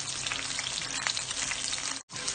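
Onions sizzle in a pan for liver and gizzard cooking, a loud continuous crackling fry close up with a brief cut near the end and no talking.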